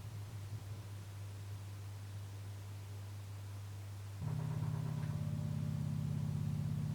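A household washing machine hums steadily in the background with a low mechanical drone under faint hiss. Partway through it jumps to a louder, slightly higher hum with a rhythmic flutter.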